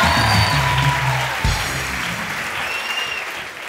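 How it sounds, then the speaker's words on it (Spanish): Studio audience applause on a live talk show, a dense, loud wash of clapping that starts at full strength, swells again midway, then tapers slightly toward the end, with a brief bit of voice early on. "¡Fuerte el aplauso"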